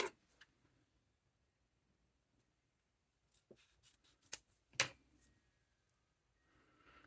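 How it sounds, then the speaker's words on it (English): Nylon webbing for a Scotia Satchel bag being cut to length, heard as a few quiet, sharp snips and clicks in close succession near the middle of an otherwise hushed stretch. "So I'm going to cut it right here."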